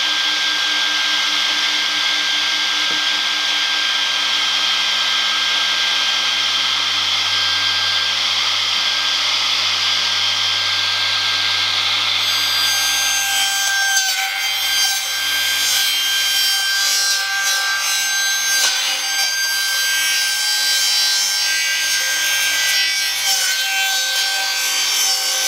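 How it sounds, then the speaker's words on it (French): A cutting machine saws steadily through a Nike Air Max One sneaker, a continuous close rasping, rubbing whir that turns harsher and brighter partway through, with no talking. "maintenant, on va essayer de couper la paire ici à cet endroit-là."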